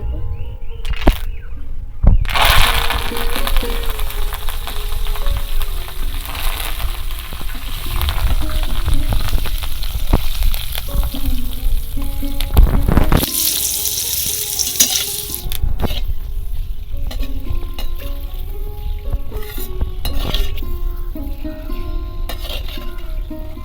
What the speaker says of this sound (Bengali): কারি পাতাগুলো ভাজার সময় কিন্তু একটু সাবধানে ভাজতে হবে